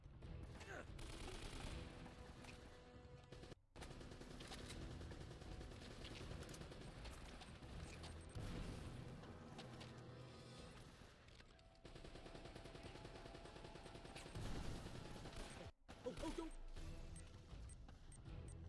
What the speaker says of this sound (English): that machine gun turret is really starting to annoy me